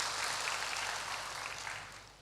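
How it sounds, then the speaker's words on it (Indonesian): Steady applause from a church congregation fills the space, a dense, even wash of many hands clapping that slowly fades toward the end, with no talking over it. "Berikan tepuk tangan buat Tuhan Yesus."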